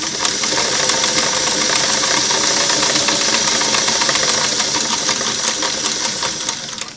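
Singer Model 338 sewing machine, not yet rehabbed, running a continuous single-needle straight stitch with a loud, even, buzzing hum that fades slightly at the end.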